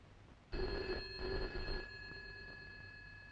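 A telephone rings indoors in a film scene, a single bright electronic ring lasting a little over a second, then fading into a quiet room hum.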